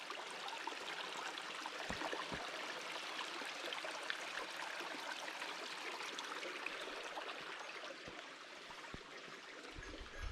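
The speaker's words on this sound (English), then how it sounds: "I don't remember there being so many little streams." Small mountain streams run along an Adirondacks hiking trail on Ampersand Mountain, a steady broadband rush of flowing water close by with a few faint footfalls and knocks, and no talk.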